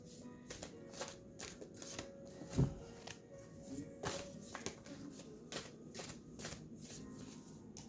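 Close, crisp tarot card shuffling, repeated riffles and soft slaps of a deck handled alone at a steady pace.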